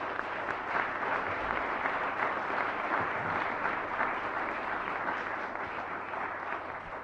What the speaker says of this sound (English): hope everyone can give them a round of applause for the hard work they've done